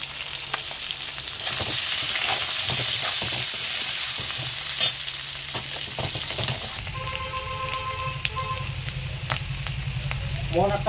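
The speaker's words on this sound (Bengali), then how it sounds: "আগের থেকে সিদ্ধ করা আলু রাখাগুলি এখন আমি ভেজে নেব" Boiled potatoes frying in oil with salt and turmeric in a kadai, a loud continuous crackling sizzle with scattered spatula clicks and scrapes, steady throughout.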